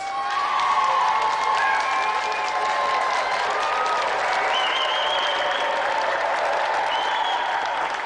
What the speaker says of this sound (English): Another round of applause for our special guest, Cathy Dennis.